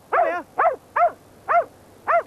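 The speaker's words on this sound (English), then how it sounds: "the dog started barking and making a fuss near some bracken" A dog barks five times in a steady rhythm, loud and close, during a search near bracken on Cannock Chase.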